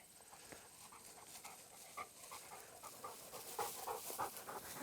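A retriever dog pants steadily after fetching two birds in an outdoor field, quick rhythmic breaths close by with a faint whimper, no talking.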